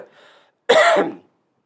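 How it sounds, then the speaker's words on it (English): A single loud, harsh cough close to the microphone, preceded by a faint murmur and followed by silence. "I got a cough here, so hold your ears."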